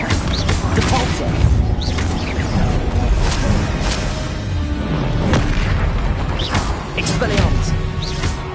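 Depulsor spell cast in the video game Hogwarts Legacy, a dense, continuous rumble of magical blasts and booming impacts amid combat sounds, loud and busy, with a voice calling out during the fight.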